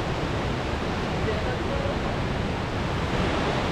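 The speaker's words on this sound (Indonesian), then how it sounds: "kencengnya deburan air terjun ini." The Grojogan Sewu waterfall at Tawangmangu roars in a continuous broad rush of falling water, loud and unbroken, filling the whole moment without pause.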